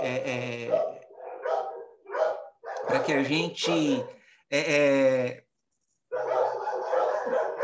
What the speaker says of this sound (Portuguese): Elias, esses cachorros são teus?